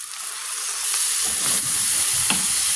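Blended tomatoes poured into a pan of cooking meat, carrots and onion, giving a loud sudden sizzle and hiss that swells and stays steady, with a faint stir near the end.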